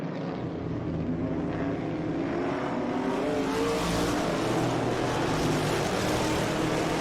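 Race cars, among them a 1968 Camaro, roar through turn 2 at Laguna Seca during SVRA and Trans Am racing, a loud, continuous engine drone whose pitch swells as the cars pass.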